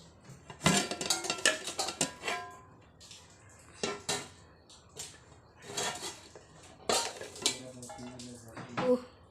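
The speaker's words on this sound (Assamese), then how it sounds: "এতিয়া মই বাচনত অলপ উলিয়াই ল'ম" Metal dishes and cutlery clatter and clink in a home kitchen as cooked rice for a meat biryani is served into a bowl, with irregular sharp clangs and scrapes in bursts, close and fairly loud.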